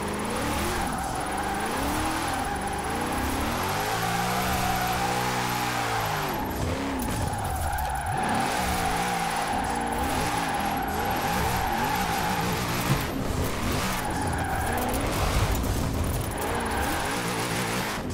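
Racing game car in Forza Horizon 4 driving hard on a road that has dried out, with a steady loud engine drone, shifting revs and tire skids running throughout, no talking.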